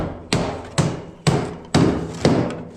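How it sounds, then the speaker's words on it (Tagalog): Five sharp hammer blows land at a steady pace, each a hard metallic thud with a short ringing tail, close by and loud, with no talking. "martilyo"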